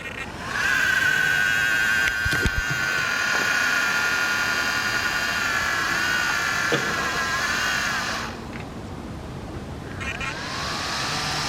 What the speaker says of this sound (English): So sometimes this motor fan makes a noise,